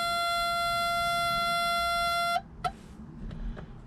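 Suzuki Samurai glow plug warning buzzer, a steady loud electronic tone holding for over two seconds then cutting off abruptly, followed by a couple of faint clicks and quiet cabin noise.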